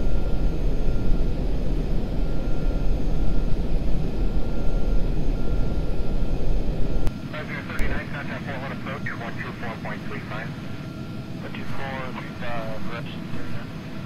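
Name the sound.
wind noise on flaps and gear, Citation II flight simulator game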